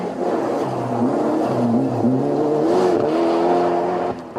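A Ford Escort rally car pulls away on a Granite City Rally 2005 stage, its engine revving hard and climbing in pitch as it accelerates, loud and close throughout with no voices.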